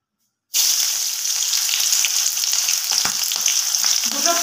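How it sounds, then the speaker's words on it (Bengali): Chopped onion dropped into hot oil already seasoned with turmeric powder, bursting into a loud sudden sizzle after a moment of silence and then holding a steady close crackle with faint stirring scrapes. "এবার দিয়ে দেবো পেঁয়াজ কুচি।"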